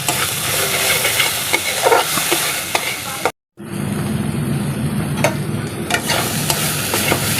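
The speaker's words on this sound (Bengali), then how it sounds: "ধনে গুঁড়ো খুব ভালো করে কষিয়ে নিতে হবে বন্ধুরা।" Spices with coriander powder fry and are stirred hard in a pan, loud close sizzling with repeated spatula scrapes and clicks, a momentary silence partway through, then more vigorous stirring.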